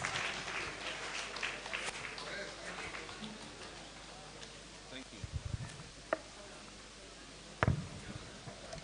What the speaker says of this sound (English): A round of applause for him as he comes for the vote of thanks.